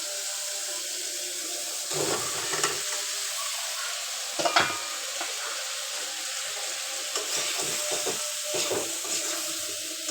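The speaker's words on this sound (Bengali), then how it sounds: "মশলাটা তো হচ্ছে তেল ছাইড়ে দিছে আর এখন হচ্ছে আমি মিষ্টি কুমড়াটা দিয়ে দেব" Pieces of sweet pumpkin go into spice paste frying in oil in a pan, raising a steady close sizzle with a few louder bursts of stirring and scraping, and no voices.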